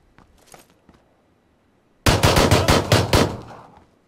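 Rapid automatic gunfire in the shooter game Battlegrounds, a loud close burst of about eight shots in quick rhythm after a quiet stretch with faint clicks.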